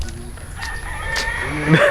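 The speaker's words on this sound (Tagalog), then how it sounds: "Daghan kay mga hiniktan oh." A rooster crows near the end over a backdrop of many chickens at an eco farm in Pinamungajan, Cebu, with faint background noise throughout.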